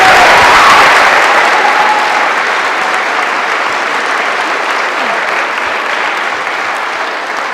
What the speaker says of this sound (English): How about we give a round of applause to Miss Ellingson